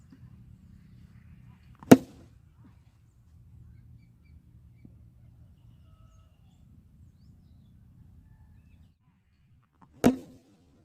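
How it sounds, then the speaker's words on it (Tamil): A village plastic cricket bat strikes a ball outdoors. Two sharp, isolated cracks land about eight seconds apart over a faint, quiet background. "இப்போ இந்த பவர்லேயுமே இந்த பேட்டால் எவ்வளோ தூரம் இந்த பந்தை அடிக்க முடியுங்கிறது தான் இப்போ பார்க்க போகிறோம்"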